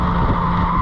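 A Mazda MX5 race car brakes hard at Oulton Park, tyres skidding in one loud, sustained squeal close by for under a second.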